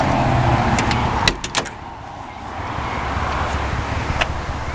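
A car door on a 1948 Ford Super Deluxe Coupe clicks and thuds a few times up close, with a brief latch clatter over steady outdoor wind.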